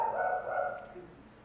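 A dog barks somewhere nearby during a spoken church gathering, its yapping energy massed in the middle range and fading out after about a second.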